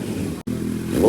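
A Kawasaki Z900 fitted with a fully hollow SC Project exhaust rumbles nearby with a deep, steady bassy tone, cuts out for a split second, then swells into a rising rev.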